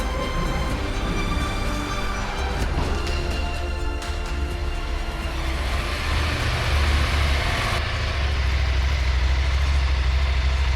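A 2025 KTM 890 Adventure R motorcycle idling nearby, a loud, steady low engine rumble with a rough texture that carries on throughout, with no one speaking.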